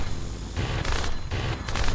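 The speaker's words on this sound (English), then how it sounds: "now you can turn to shoot in the other direction" Rapid, booming cannon fire from a helicopter in a self-made flying game, several dense bursts in quick succession with short gaps between them.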